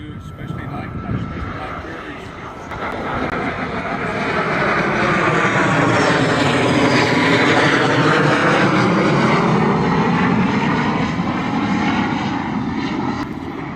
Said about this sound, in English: what you're hearing going over us is actually the sound of freedom. Those are jet pilots working on their touch and goes.